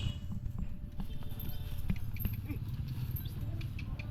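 Hooves of a horse in training clip-clop in a steady, close rhythm on hard ground, with a low outdoor rumble and faint voices in the background.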